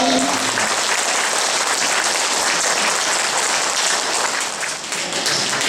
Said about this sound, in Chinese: 所以咱佫甲因热烈掌声，多谢伊